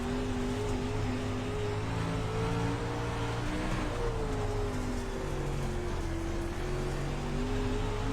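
Late model race car engine in the iRacing sim on a dirt speedway, a constant loud droning rev with pitch wavering as throttle rises and eases, steady and close with no talking.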